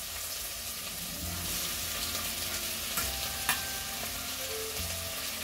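Onions frying in a pan for homemade lasagna give a continuous close, even sizzle with a few faint utensil taps, and no voices.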